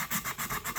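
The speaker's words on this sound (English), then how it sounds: "So we're sanding our gauges, and I'm sanding with 150." Quick back-and-forth rasping of 150-grit sandpaper on rusty metal gauge covers from a Kawasaki Z1 KZ900, about six short, even strokes in a steady rhythm, close up.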